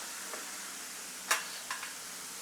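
Shev for shev ladoo frying in oil over a medium gas flame, a faint steady sizzling hiss with a couple of soft clicks from the pan.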